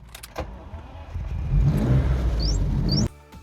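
A 1986 Lamborghini Countach engine roars up in a strong, close rev, holds loud for over a second, then cuts off abruptly.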